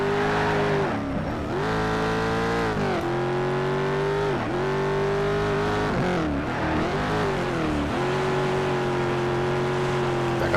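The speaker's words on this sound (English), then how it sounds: "Just want to hear the sweet, sweet sounds of this car." Corvette race car engine in the Need for Speed Shift 2 racing game, a loud continuous roar that revs and drops through repeated gear shifts, with occasional tire squeal.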